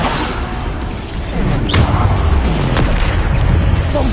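Bombarda explosion spell going off in the video game Hogwarts Legacy: loud booming blasts with whooshing bursts, growing stronger partway through and layered with sharp cracks and rumbling debris.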